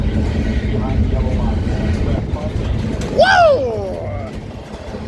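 A freight train heading west toward Long Beach rolls past a Fullerton rail line with a steady, loud rumble, while a nearby voice briefly exclaims over the noise.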